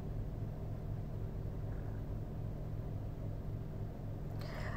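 Steady low car-interior rumble from a moving vehicle, a dense even drone filling the low end throughout with no voices, plus a brief hiss near the end.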